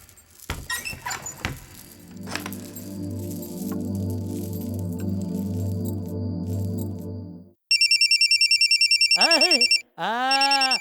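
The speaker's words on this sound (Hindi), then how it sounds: "फोन आ गया।" A telephone rings loudly and close, a rapid trilling electronic bell in two repeated bursts that follow a sustained humming tone and some rustling.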